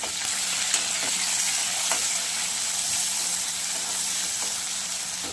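Tomatoes sizzling in hot oil in a pan for a simple capsicum, potato and pea curry, a constant close hiss with a few faint clicks of stirring and no talk.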